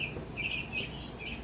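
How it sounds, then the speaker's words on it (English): Mourning doves chirp outdoors on a quiet, snowy winter day, a few faint, thin bird calls repeating over a low background hush. "I can hear the morning doves chirping"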